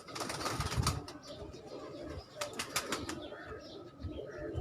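Pigeons on a rooftop loft, with soft cooing, scattered chirps and bursts of wing flapping against steady outdoor background noise, fairly close.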